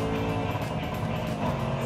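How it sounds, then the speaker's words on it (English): A Range Rover Sport SVR exhaust rumbles loudly and steadily at close range, a dense low drone with faint crackle throughout and no voices. "Listen to it cackling and popping."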